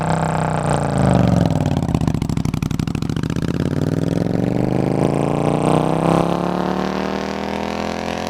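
A Suzuki Intruder VS800 cruiser motorcycle with two straight, fairly empty exhaust pipes in place of the stock baffled ones rumbles close up, its throaty pulsing note rising steadily as the engine revs and then easing back, with no talking.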